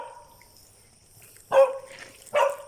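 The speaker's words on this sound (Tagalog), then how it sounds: "yung aso na kumakahol, yun yung pakainin natin" Two sharp dog barks ring out close by, spaced about a second apart after a quiet stretch.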